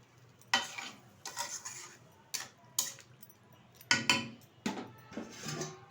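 A spoon stirs rohu fish curry with kudri potatoes in a pan: several short scraping, clinking strokes in uneven bursts with quiet gaps between them, close and clear.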